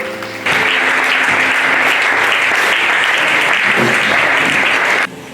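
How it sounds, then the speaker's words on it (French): A church congregation applauding and cheering: loud, dense clapping with shouts that starts suddenly, holds steady for several seconds, then drops off near the end. "Viens donc, sous nos acclamations."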